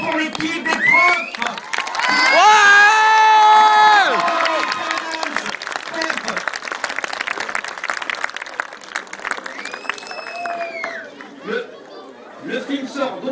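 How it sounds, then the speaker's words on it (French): Applause and cheering from a large crowd for a teachers' team, loud shouting and whoops rising over clapping, then lively chatter and scattered clapping as voices talk near the end. "Et un tonnerre d'applaudissements pour l'équipe des profs"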